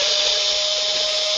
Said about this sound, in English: we're having you actually putting a lollipop into a drill